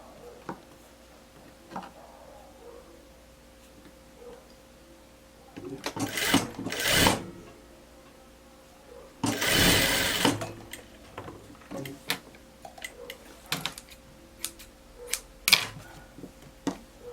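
Sewing machine stitching a blouse: two short bursts of fast, whirring stitching separated by quiet, with scattered clicks and fabric handling around them.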